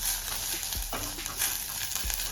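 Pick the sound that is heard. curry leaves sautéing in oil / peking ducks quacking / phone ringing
curry leaves sautéing in oil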